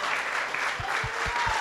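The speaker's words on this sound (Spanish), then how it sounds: "¿Cuánto le da un aplauso a Jesús?" Church congregation applauding during a Sunday Christmas-season service, a steady dense wash of clapping throughout with a few louder low thumps near the end.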